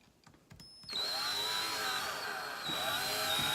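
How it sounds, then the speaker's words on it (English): A power drill whirs steadily as it drives a hook in, starting after a few light handling taps and holding a loud, constant motor whine that dips briefly before picking back up. "When I say drive it home, I mean drill it in."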